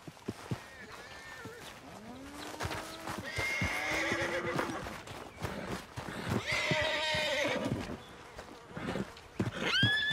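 Horses in Red Dead Redemption 2 neigh and whinny loudly several times, with clip-clopping hooves and background game sounds mixed throughout.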